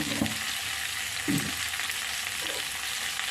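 Mango pickle with turmeric and salt frying in a pan gives a steady hissing sizzle, close and even, with a few faint stirring bumps.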